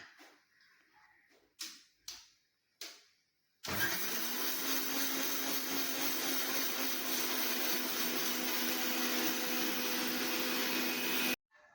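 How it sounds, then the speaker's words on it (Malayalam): A mixer grinder whirs loudly and continuously as it grinds roasted coconut dry without water, a steady high motor roar after a few short starting pulses, with no talk. "ഫസ്റ്റ് നമുക്ക് വെള്ളം കൂട്ടാതെ ഒന്ന് പൊടിക്കാം."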